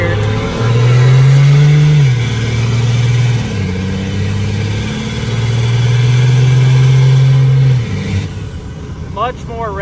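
A Cummins 12-valve diesel swapped into a Chevrolet C30 truck drones loudly while driving, revs rising and falling through several shifts, the engine note close and steady, with someone talking over it.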